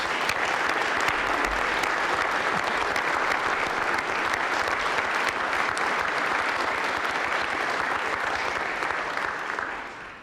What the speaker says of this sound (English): So please join me and give a round of applause.